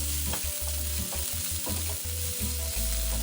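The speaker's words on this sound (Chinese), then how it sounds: "再将搅碎后的葱蒜末倒入，中火爆香" Chopped scallion and garlic sizzle steadily in two to three spoonfuls of hot cooking oil over medium heat, with rhythmic stirring scrapes in a wok, close and continuous, no voices.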